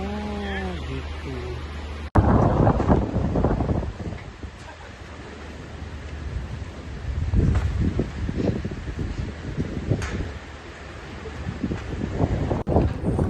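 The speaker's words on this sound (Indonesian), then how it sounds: "Anginnya kencang sekali" Strong wind at a suspension bridge in South Korea buffets the microphone in loud, uneven gusts and rumbling roars, rising and falling over the whole stretch, with people talking under it.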